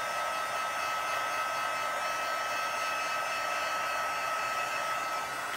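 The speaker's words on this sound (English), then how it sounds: "then you can take your powder and melt it with the heat gun" A heat gun runs continuously to melt embossing powder on handmade cards, a steady loud whooshing blower hum with a whining motor tone, unbroken and close.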